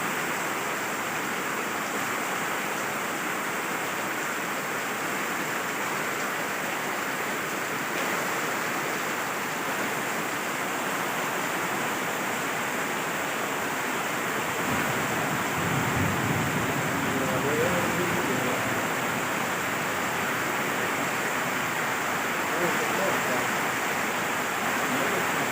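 Water pours in a steady, dense rush onto someone's feet in the grounds of a Darul Uloom seminary, continuous and close for the whole stretch, thickening slightly in the second half.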